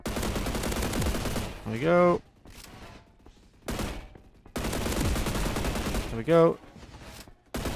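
Bursts of AK rifle fire in the Roblox shooter Energy Assault, dense rattling volleys separated by brief gaps, with a player speaking casually between the shots.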